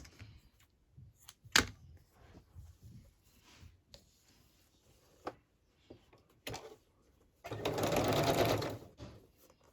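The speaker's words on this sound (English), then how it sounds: "I think I might stitch some of that, zigzag some of that across there." Sewing machine zigzag stitching across fabric for an ocean-inspired piece: a dense burst of rapid mechanical whirring near the end, preceded by sparse clicks, taps and quiet handling noises.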